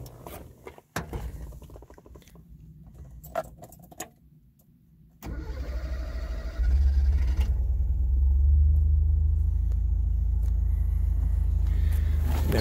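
A 1979 Honda Civic 1200 being started warm: a brief crank, then the engine catches and settles into a steady, loud idle rumble that carries on to the end, with a few clicks and handling noises beforehand.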